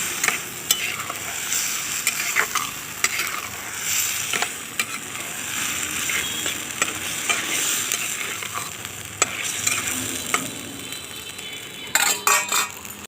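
A spoon scrapes and stirs chicken curry in a cooking pot while the spiced mixture sizzles steadily underneath, with occasional sharp metallic clinks against the pot's side and no talking.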